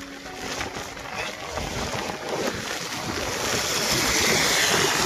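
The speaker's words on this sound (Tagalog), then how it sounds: "Hangin talaga ang malakas po sa kanya." Strong typhoon wind in Samar, Philippines roars steadily and grows louder, with a rushing, blustery noise buffeting the microphone.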